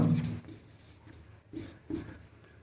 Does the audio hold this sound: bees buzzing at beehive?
no